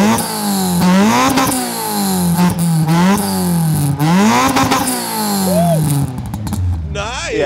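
A cheap project car's engine revs loudly and close up, rising and falling in pitch through several repeated throttle blips before it settles down near the end.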